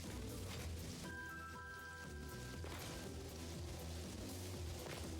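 Rain falling in the video game Satisfactory makes a steady, dense hiss that fills the scene, with a sustained tonal hum layered over it for a couple of seconds.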